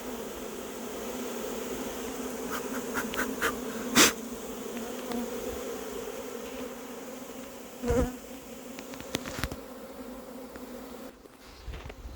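A honeybee swarm hums steadily during a swarm capture in Ris-Orangis, with a continuous buzzing drone, occasional bees flying close past the microphone, and a few soft knocks and rustles.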